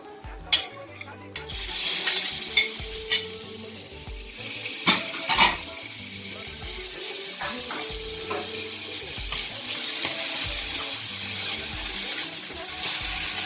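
Salmon frying in a tablespoon of olive oil in a hot pan, a steady close sizzle that builds and holds, punctuated by a few sharp utensil clinks and scrapes against the pan.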